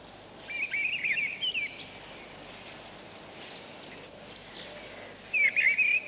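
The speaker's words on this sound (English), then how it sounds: "The song may be heard as early as February and consists of short, flute-like phrases, more like a blackbird's than the song thrush's" Mistle thrush singing short, strident flute-like phrases at a distance, two clear whistled bursts at the start and end with fainter notes between, over a soft outdoor hush.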